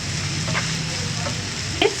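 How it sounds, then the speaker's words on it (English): Mixed vegetables sauté in a pan for pav bhaji style pasta with a continuous close sizzle. A spoon gives a brief stirring scrape near the end, and no one speaks. "Just sauteing it for a little bit."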